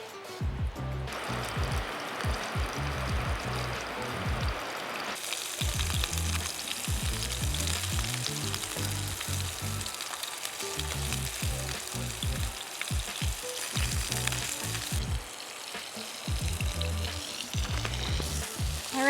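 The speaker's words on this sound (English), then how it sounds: "now I hear a sizzle" Steady, loud sizzling of meatballs frying in a hot pan, a continuous crackle with occasional bursts of popping, no voices.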